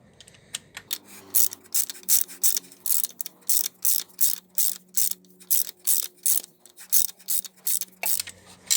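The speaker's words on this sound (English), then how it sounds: "I think it's best if you use for the E10 socket a quarter of an inch socket ratchet instead of a half of the inch socket" A quarter-inch socket ratchet turning an E10 socket on a Mercedes-Benz OM611 diesel engine, rapid close clicking in regular bursts of pawl ticks repeated for several seconds, alone with no talk.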